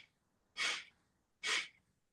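Two separate, close-up breaths during a posture and pelvic-core breathing exercise, each a soft, airy rush of about a quarter second, with quiet pauses before and between them.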